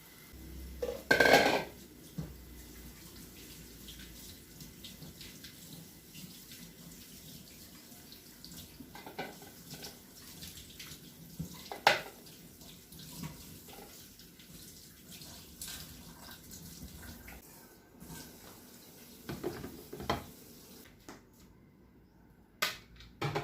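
Pork ribs are washed under a running kitchen tap, with faint water flow and occasional clinks of dishes and utensils in a sink, quiet and intermittent.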